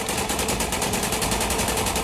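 Army gunfire in Kulgam, Jammu and Kashmir, fired as several rounds in a rapid, evenly spaced burst of loud, close cracks.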